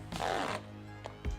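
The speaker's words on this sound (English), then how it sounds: "A little bit of tape." A short strip of tape is pulled off a roll in one quick, close ripping stretch during a paint stand refurbishing job, followed by a faint tap.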